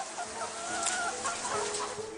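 Gramapriya and Vanaraja breed chickens cluck in a farm flock, several overlapping birds calling in quick, irregular bursts close by, with no talk.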